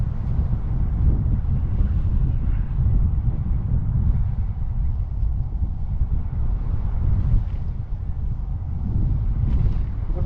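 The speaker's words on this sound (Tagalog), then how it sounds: "Lakas ng hangin." Cold, strong wind roars steadily against the microphone, heard outdoors near the water from a pedicab, with loud low rumbling that keeps going without a break.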